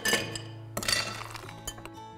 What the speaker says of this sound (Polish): kosteczki lodu